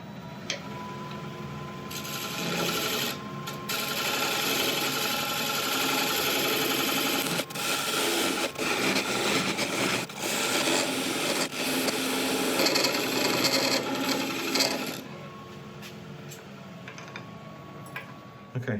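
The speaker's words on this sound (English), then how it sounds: "I'm just going to get a little scraper in there just to blend that straight edge into where it starts to curve out" Scraper tool cutting laburnum wood spinning on a lathe, a sustained rough rasping scrape with brief breaks where the tool lifts, then quieter motor hum near the end.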